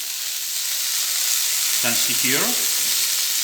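Broccoli and sea spaghetti sizzle loudly in a hot frying pan with a steady hiss throughout, while a person speaks briefly over the cooking noise.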